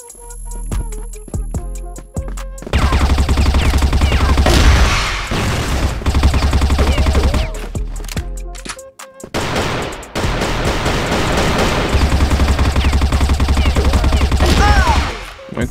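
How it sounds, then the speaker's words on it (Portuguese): Rapid automatic gunfire from a shooting video game crackles in long, dense bursts, loud and close, with a short pause midway before another extended volley, over a music track. "tô dando muito tiro"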